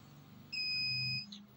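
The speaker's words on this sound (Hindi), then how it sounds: "मैं बजर मोड में रख दिया है।" A multimeter in buzzer mode during a Realme 3 phone repair gives one short, steady electronic beep of under a second over a low background hum.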